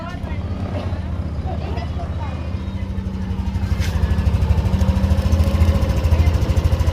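A motorcycle engine running on Extreme One Racing Oil with about 1,435 kilometers on the oil, idling steadily with a low, even drone that grows slightly louder partway through, and no talk over it.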